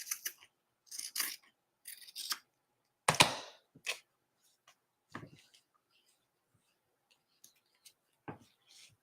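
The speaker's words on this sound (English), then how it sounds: "And I'm going to cut it to where it's even." Scissors snipping through furry craft material for a gnome, a series of sharp close cuts in short bursts separated by quiet pauses, with faint small clicks and rustles toward the end.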